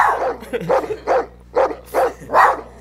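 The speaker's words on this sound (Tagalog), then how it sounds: "Tinatahulan niya yung sarili niya." A dog barks on cue during a rescue and return by fire brigade volunteers, giving about seven short, close, evenly spaced barks, clear and unmasked.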